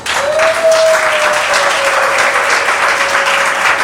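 Steady applause from a crowd at an official wedding ceremony, dense and loud and continuing without pause, with a faint sustained tone running underneath.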